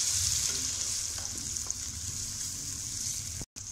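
Tomato paste from two medium tomatoes fries in a pan for biryani, giving a steady, close sizzle with light stirring scrapes. It drops out for a split second near the end.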